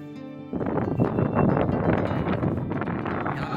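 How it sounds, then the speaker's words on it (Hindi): A strong, cold wind buffets the microphone at a hilltop palace, producing loud, gusty rumbling and flutter that continues steadily for several seconds. "बहुत ठंडी हवा चल रही है यहाँ पर"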